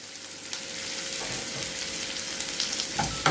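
Onions fry in oil with cumin and mustard seeds for capsicum rice. A dense, even sizzle carries on throughout, with a faint tonal hum and a couple of small stirring knocks near the end.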